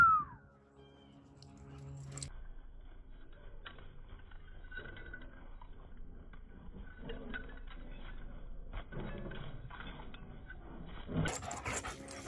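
Dogs, one of them a boxer, pant and shuffle around nearby at low volume, with faint movement and a brief whimper under a quiet background, and a louder rustle near the end.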